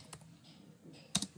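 A computer keyboard clicks sparsely as a command is entered on a Windows Server machine, with a few soft keystrokes and one sharper tap near the end, quiet and close.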